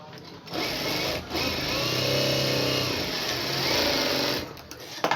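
A domestic sewing machine stitching a blouse lining runs in steady bursts of close, loud mechanical whirring, with brief pauses between runs.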